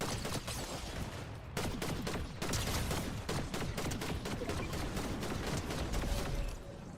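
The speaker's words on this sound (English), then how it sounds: "Somebody behind me shooting?" Gunfire in the Fortnite video game, rapid loud bursts of automatic shots in dense volleys across several seconds, broken by brief pauses.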